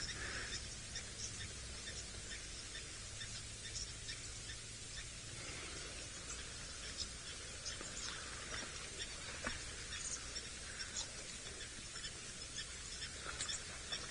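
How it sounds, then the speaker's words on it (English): Blacksmith lapwings call somewhere ahead during a sunrise safari drive, giving faint, sharp metallic "tip" notes that repeat irregularly over a soft, steady hiss of background noise. "tip, tip noise you can hear are some blacksmith lapwings just ahead of us"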